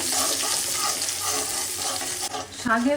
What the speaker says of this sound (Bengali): শুকনো মরিচ কুচি রসুন কুচি পেঁয়াজ কুচি এখন এগুলো ভেজে নেব